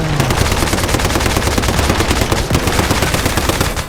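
Rapid automatic assault rifle fire in a video game, a dense, continuous stream of loud shots rattling without pause through the whole stretch.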